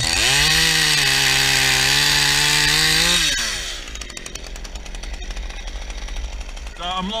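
Efco MTT 3600 chainsaw running loud and steady at high revs for about three seconds, then dropping to a rougher, lower idle with a rattling chain and some background noise.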